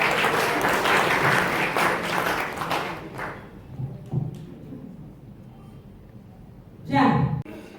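An audience at a tenth-anniversary celebration of an association applauds in a hall, a dense burst of clapping for about three seconds that dies away, followed by quieter sounds and a brief voice.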